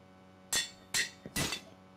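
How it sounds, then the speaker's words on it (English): A Minecraft anvil breaks, giving three sharp metallic clangs in quick succession, each with a bright ringing tail, plus a small tap just before the last one. "Oh, no, my anvil broke."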